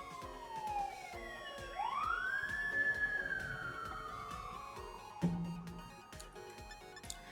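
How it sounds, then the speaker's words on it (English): An emergency vehicle siren passes outside, a wailing tone rising and falling as it goes by, moderately distant and fairly faint, over quiet background noise with a brief knock near the end. "it's not my stream without a siren going by"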